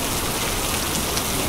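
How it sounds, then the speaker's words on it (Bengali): Heavy hurricane rain in Bermuda pours down as a dense, steady roar, loud and unbroken with no voices. "বৃষ্টি হচ্ছে, ভালো পরিমাণে বৃষ্টি হচ্ছে"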